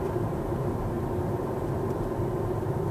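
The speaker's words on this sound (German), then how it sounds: "Man hört, das Fahrzeug macht mehr so ein Geräusch wie so eine Straßenbahn." A Nissan Leaf electric car on a test drive whirs steadily like a tram, a continuous low hum with a faint tonal band running evenly throughout with no talk.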